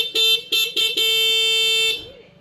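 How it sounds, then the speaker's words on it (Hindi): A Bajaj Platina motorcycle horn honks three short beeps, then one long continuous blast, loud and close, with no talking. "अब मैं सुनाता हूँ इसकी हॉर्न।"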